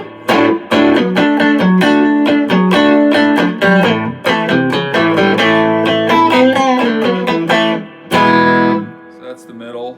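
A Greg Bennett MB1 Stratocaster electric guitar played clean through its stock middle pickup, with a run of distinct plucked notes and chords ringing close and loud, a short pause, then a final strum that fades out.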